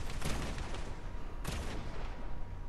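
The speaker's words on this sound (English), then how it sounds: "I'm just hearing gunfire." Gunfire in the Fortnite video game comes as two dense bursts of rapid shots, the second about a second after the first, over a steady hiss of game noise.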